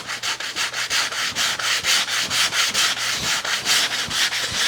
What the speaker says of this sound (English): I'm just going to take some 100 grit sandpaper that makes a lot of dust and sand